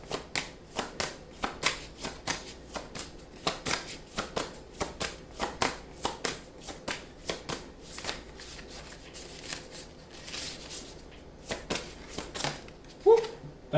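Tarot cards being shuffled by hand, a long run of rhythmic, crisp riffling bursts close to the listener, with a brief voice near the end.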